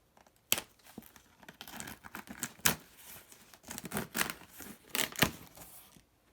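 A knife saws and scrapes against tough packing tape on a mystery package, with scattered close crinkling, tearing and sharp snaps, fairly faint overall.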